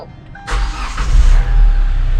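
A diesel Kia All New Pride cranks and fires up, a short starter whir giving way to a loud, steady idle rumble up close, with no talking.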